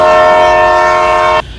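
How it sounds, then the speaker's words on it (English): Loud, sustained train horn as a train leaves the station, one steady multi-tone blast lasting about a second and a half before cutting off abruptly into quiet rumble. "The apoplastic train is now leaving the station"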